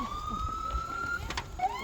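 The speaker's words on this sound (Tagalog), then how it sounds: "may ambulansya na" Ambulance siren in Saipan, a steady wailing tone that rises and shifts, moderately loud against outdoor background noise, with no talking.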